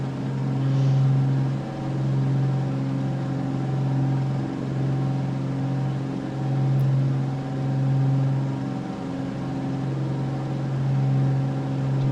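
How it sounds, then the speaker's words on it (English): Twin piston engines of a Carenado B55 Baron in Microsoft Flight Simulator 2024, heard from the cockpit with the window closed: a steady droning hum with slow, regular beating pulses, continuous and fairly loud, no talk. "I kind of like hearing the engines."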